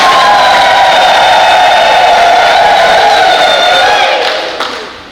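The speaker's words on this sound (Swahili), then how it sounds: "Tupige makofi na vigelegele." A Catholic congregation at a regional women's gathering claps and ululates on the feast of Saint Thomas, loud sustained high trilling cries over applause that fade toward the end.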